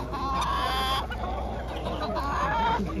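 Chickens and roosters for sale at a livestock fair in Muktsar, Punjab, cluck continuously close by, several birds overlapping in a steady chorus of short calls.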